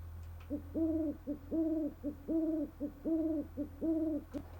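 An owl-themed vehicle horn in Farming Simulator 22 plays five regular, evenly spaced double-note hoots over a low steady engine hum, clear and close with no voices.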